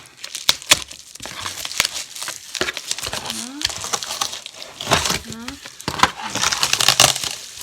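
Someone cuts and tears through a heavily taped parcel with scissors at close range, with scattered crinkling, ripping and snipping sounds amid speech.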